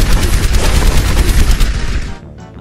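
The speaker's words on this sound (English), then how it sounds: "We're under fire! Get some cover!" Dense, continuous gunfire during an attack in a game, rapid overlapping shots and booms filling the air loudly for about two seconds before cutting off abruptly into near silence.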